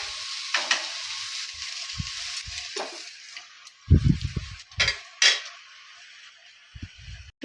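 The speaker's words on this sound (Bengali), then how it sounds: "একটু সটে করে নিলাম, নিয়ে একটু ভাজা ভাজা করে" Vegetables for a spring roll filling sauté in a pan, with bursts of sizzling and stirring scrapes and clinks of a spatula against the pan, coming and going irregularly over quieter gaps.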